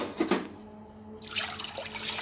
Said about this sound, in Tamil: இந்த அரிசியும் பருப்பையும் சேர்த்து தண்ணி ஊற்றிக்கோங்க